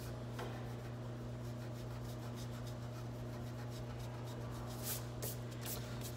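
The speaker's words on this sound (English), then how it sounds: "So erase everything inside your circles." An eraser rubs pencil lines off paper inside drawn circles, giving a steady, close, quiet scratchy rasp that continues without a break through the whole stretch, with no talk.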